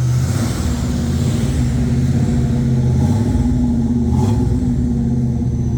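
A loud, rumbling hot rod engine idles and revs steadily up close, with a deep throaty tone throughout.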